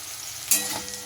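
Fish pieces hit a hot pan of spice paste for a Bengali fish curry, a steady hiss and crackle with a brief sharp sizzle burst midway, heard alone with no talk.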